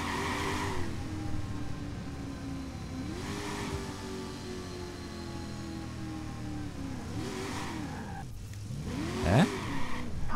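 A car engine in the video game Watch Dogs revs and accelerates repeatedly, its pitch climbing and falling in several surges before a final sharp rise. The engine sounds loud and close throughout.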